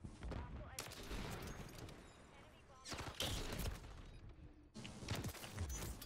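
Sniper rifle fire in a video game, an OG Intervention from Modern Warfare 2, with loud sharp reports cracking over a busy gunfire-filled mix, several shots spread across a few seconds.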